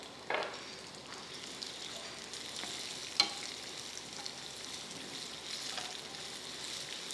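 Coconut and finely chopped onion fry in a pan for a dal and eggplant dish, a steady close sizzle and crackle with occasional scrape and tap of stirring.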